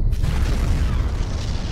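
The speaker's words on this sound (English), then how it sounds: "Nuclear explosion." A cartoon nuclear explosion effect: a deep, loud rumbling boom that sustains at full strength, heavy in the low end, with no speech over it.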